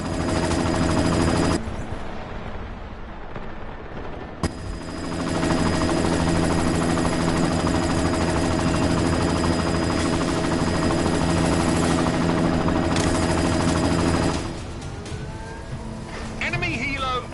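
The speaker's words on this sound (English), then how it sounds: "You've got to stop that chopper." A helicopter drones loudly and steadily alongside bursts of gunfire in the video game Deus Ex: Mankind Divided, the rotor and engine noise dense and continuous with a brief lull partway through.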